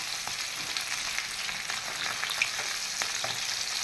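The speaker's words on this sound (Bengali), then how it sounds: "মাছটা যেন দুবার তেলে ভাজা হয় ওইভাবে ভেজে নিতেছি" Hilsa fish fries in mustard oil in a frying pan, a quiet, steady crackle with scattered small pops and light stirring, and no talk.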